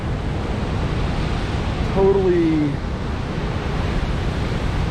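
Ocean waves surging along a rocky shore with kelp and anemones, a constant loud wash of surf with a brief swell, while a person speaks a word.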